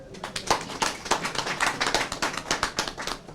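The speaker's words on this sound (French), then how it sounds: "Je voudrais que toute l'assistance les applaudisse." Steady applause from a crowd, many hands clapping densely and continuously with no pauses, moderately loud and close.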